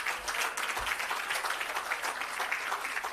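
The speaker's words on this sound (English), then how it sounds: "Please give her another round of applause." Audience applause at the launch of an agro park and irrigation system, a continuous round of clapping from a crowd heard at a moderate distance, steady for the whole stretch.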